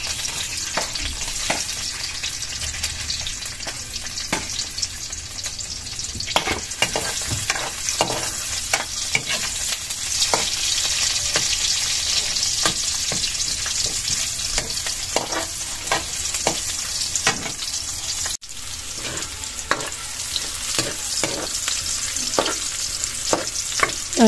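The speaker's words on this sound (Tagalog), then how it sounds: "Nilagay na po natin yung ating bawang at sibuyas." Garlic and onion sizzle in hot cooking oil for pork adobo, a steady loud frying hiss broken by frequent scraping stirs of the pan throughout, with no talking.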